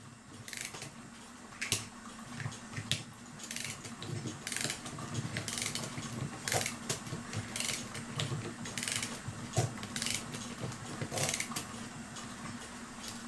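A vintage Seth Thomas kitchen parlor clock being wound, rhythmic ratcheting clicks repeating at an even pace over a quiet room hum, close and moderately soft.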